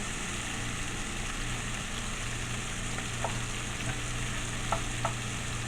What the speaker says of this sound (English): shrimp doesn't take a long time to cook